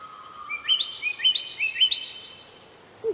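An Australian magpie gives a series of clear, rising whistled calls, close and fairly loud, in quick repeated phrases before falling quiet.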